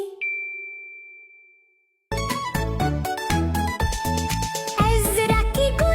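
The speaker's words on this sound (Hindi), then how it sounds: "घंटी बजाओ" A single bell strike rings out clearly and decays in a nursery rhyme, followed by a loud burst of bright children's song music with tinkling, chiming tones.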